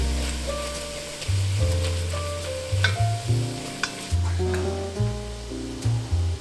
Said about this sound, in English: I need some kind of liquid to loosen things up, so I'm going to use this bone broth